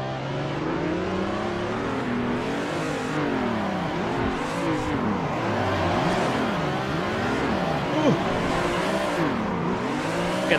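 Several racing car engines rev and wail in the Assetto Corsa driving game, with a Supra and an E30 among them, pitch sweeping up and down through gear changes, close and continuous with faint tire squeal.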